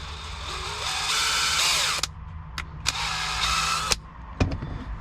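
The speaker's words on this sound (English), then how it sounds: "you want to ream it out so it slides down on the shaft. I'm going to use a 3/8." Power drill with a 3/8 bit reaming out the bushing of a Teraflex hand throttle on a Jeep TJ, a close whining motor running in bursts of about two seconds with short stops and clicks between.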